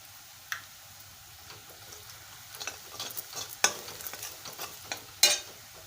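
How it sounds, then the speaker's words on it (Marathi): Salted chopped onion browning in a pan for a Malvani-style wild vegetable dish gives a soft, low sizzle broken by irregular clicks and scrapes of a spoon stirring, growing busier toward the end. "आता आपला कांदा आता भाजत आलं आहे"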